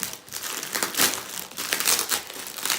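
Plastic packaging around a DAWAY yoga mat being ripped open, with dense, close crinkling and crumpling that keeps going in uneven bursts for about three seconds.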